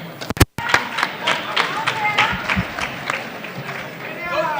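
Audience clapping at a high school senior academic assembly, a burst of applause with scattered hand claps and crowd murmur following an announcement, moderately loud and fairly close.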